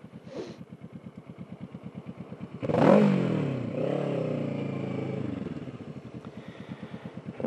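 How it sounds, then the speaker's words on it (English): Scooters running on a racetrack, with a steady pulsing engine putter that swells into a louder revving pass lasting a couple of seconds, then settles back to the rhythmic putter. No one speaks. "I've never seen scooters on the track here before."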